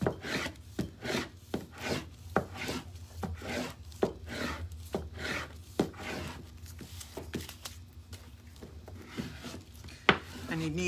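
Repeated rasping rubs of a tool burnishing transfer tape onto a mailbox, a series of short close strokes in a steady rhythm, with a few faint clicks and no talk.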